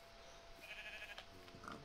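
A sheep in Minecraft, played with the FTB Infinity Evolved modpack, gives a couple of faint, short bleats, one mid-clip and one near the end, over quiet game ambience.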